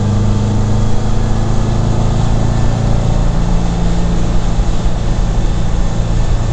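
A Porsche 356A engine gives a steady, loud drone, holding a constant pitch throughout, close and continuous with no pauses.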